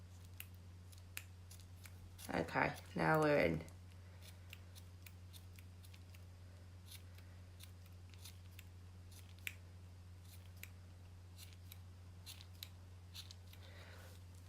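Blunt scissors snip through liquid latex during Halloween special-effects makeup, giving a close, loud burst of rapid cutting strokes over a steady low hum, followed by long quiet stretches with faint ticks and a brief spoken line.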